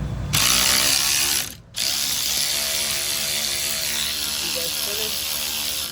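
A ratchet wrench clicks rapidly and continuously while turning a bolt during brake work on a Ford Transit, loud and close, with one brief pause before the steady ratcheting resumes.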